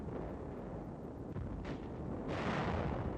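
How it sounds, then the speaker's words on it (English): Wartime combat footage of a tank taking a direct shell hit and catching fire, heard as a continuous roaring blast of explosion and fire noise with a sharp burst midway and a louder rush near the end. "One of our tanks catches fire after receiving a direct hit."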